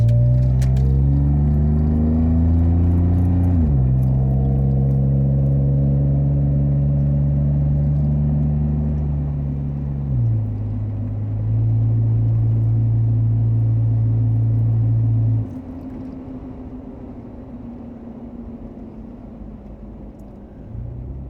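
A Jeep JK with a Flowmaster exhaust revs hard, the deep engine drone stepping down in pitch through several stages before settling into a loud, rough idle rumble close by.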